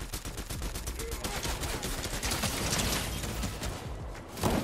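Rapid bursts of gunfire from the Fortnite video game rattle almost continuously, loud and close, layered with dense in-game effects throughout.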